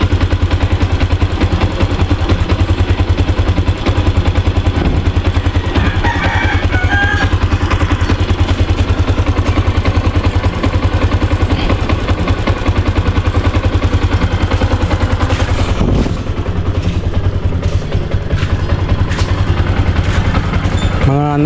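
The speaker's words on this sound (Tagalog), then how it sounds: "bago natin patayin yung makina para mag-iinit" A motorcycle engine idles steadily for warm-up, a continuous low rumble with rattling mechanical clatter, heard close and loud with little change in level throughout.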